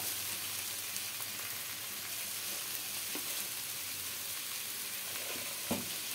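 Cabbage with grated coconut and sugar sizzles softly in a frying pan while being stirred, a steady quiet frying hiss broken by occasional faint scrapes and taps of the spoon.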